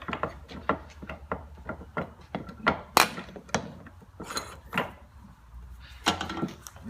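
Filter wrench working a fuel filter off a Toyota HZJ75 Troopy: a run of sharp, evenly spaced ratcheting clicks and metallic knocks, close by, with a few louder snaps.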